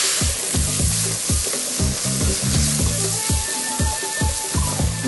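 Chopped tomatoes fry among browned spices in a hot pan, giving a loud, continuous sizzle and spatter broken by rapid, rhythmic scraping stirs close up, with no talking.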